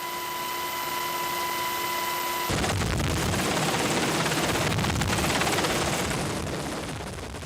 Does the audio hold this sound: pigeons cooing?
no